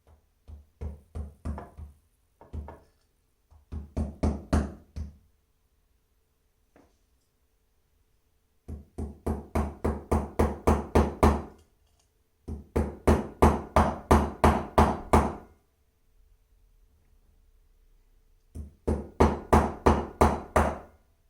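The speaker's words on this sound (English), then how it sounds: "I want to keep hammering on that same surface." A hammer strikes a punch to drive a pin out of a KWA Tavor airsoft rifle, in quick bursts of evenly spaced metallic knocks, close and loud, separated by pauses.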